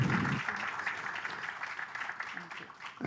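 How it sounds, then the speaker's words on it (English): Applause from the audience at The Music Academy Madras after a lecture-demonstration of Balantrapu Rajanikanta Rao compositions, a moderate, continuous clapping with a voice briefly heard at the start and again near the end. "a round of applause for the wonderful presentation"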